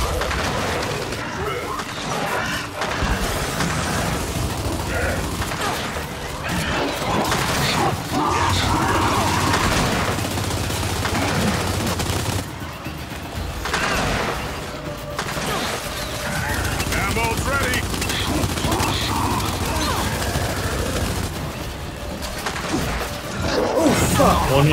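Gunfire in the shooter Gears of War 5, Hivebusters campaign finale, aimed at a swarm enemy: dense, loud bursts of shots and impacts through most of the stretch, with people talking over the combat.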